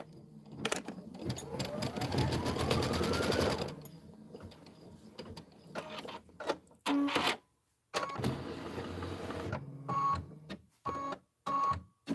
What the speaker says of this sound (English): So now we'll go ahead and stitch out the template.